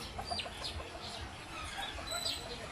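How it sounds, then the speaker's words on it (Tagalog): Hens, some of them brooding, cluck softly and intermittently in a backyard flock of chickens, with faint rustling and low background noise; the calls are scattered and moderately distant. "May mga naglilimlim na siyang inahin oh"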